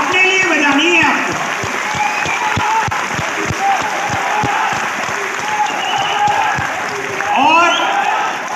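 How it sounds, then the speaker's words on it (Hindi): Loud, steady applause from a sales team at a rally, a dense wash of clapping running throughout with voices and cheering rising over it now and then. "एक बार जोरदार तालियां आप अपने लिए बजा सकते हैं।"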